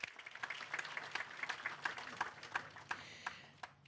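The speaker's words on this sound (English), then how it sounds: "Another round of applause." An indoor audience at a memorial gathering breaks into applause, a dense patter of many hands clapping steadily for a few seconds at moderate distance with no voices over it.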